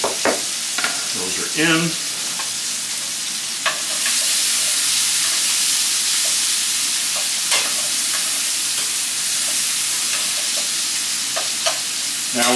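Onions and peppers fry and sizzle in a pan with a steady bright hiss throughout, punctuated by occasional stirring scrapes and clatters, and a brief spoken remark early on.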